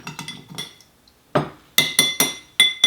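A spoon clinks against a glass while sugar is stirred into an Old Fashioned, a run of bright ringing taps in quick bursts separated by short pauses.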